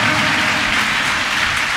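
A congregation at a Sunday church service claps loudly and continuously in praise, a dense, close wash of many hands.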